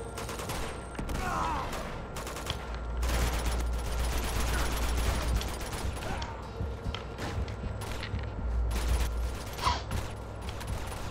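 Dense gunfire from a shootout with enemies in Uncharted 2, overlapping bursts and rapid shots with clattering impacts running almost continuously, loud and busy throughout.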